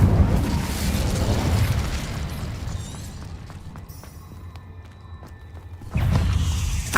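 Incendio fire spell in Hogwarts Legacy, a loud fiery burst at the start that decays into a quieter crackling stretch with ringing tones, then a second strong whoosh of flame near the end.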